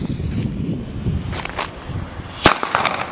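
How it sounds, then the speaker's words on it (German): A Diamond Feuerwerk Super Böller II firecracker goes off in one sharp, loud bang after a stretch of quiet outdoor rumble, followed by faint crackling debris. "also der Knall ist sehr enorm und schön geschnipselt hier. Das ist Böller."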